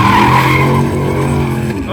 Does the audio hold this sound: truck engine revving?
yes